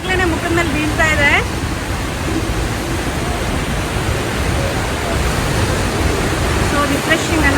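A waterfall roars as a steady, loud broadband wash of falling water, with fine mist drifting close by; a brief voice and a bird-like chirp break through early in the clip.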